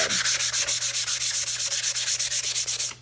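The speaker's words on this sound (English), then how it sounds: "You're gonna take your fine grit sandpaper and we're just gonna run it over the top of the board." Fine grit sandpaper rubbed over a wooden board in quick, even back-and-forth strokes, about twenty rhythmic raspy passes close up, stopping abruptly at the end with no voices.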